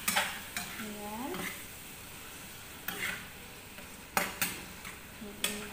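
Food is stirred in a frying pan over a continuous sizzle while cooking shrimp with pancit canton, with intermittent sharp utensil knocks and scrapes against the pan, near and clear, no speech.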